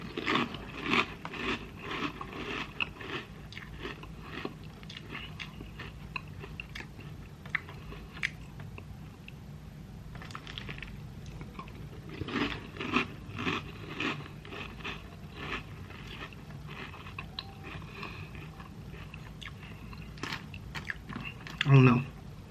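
Chewing vanilla berry breakfast cereal: close, crunchy bites and steady mastication over most of the stretch, with a louder crunch near the end; a person talks intermittently between mouthfuls.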